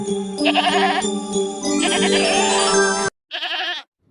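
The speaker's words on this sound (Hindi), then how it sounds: "यह तो बकरी के चिल्लाने की आवाज है" Repeated bleating from a goat, loud and close, with a long wavering call, then a short pause and one more bleat.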